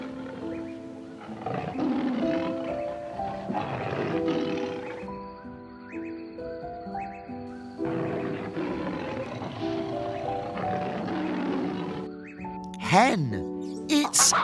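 A lion roars in two long, rough, throaty bouts, loud and close, with deep rumbling breaths and a brief higher cry at the end.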